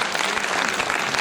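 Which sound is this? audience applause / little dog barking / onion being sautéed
audience applause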